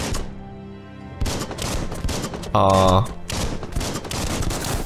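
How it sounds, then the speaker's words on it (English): Rapid bursts of video-game gunfire aimed at a Sifu character in Biomutant, several loud volleys separated by brief pauses, with a denser, louder burst midway and a voice talking between shots. "let's try shooting the Sifu"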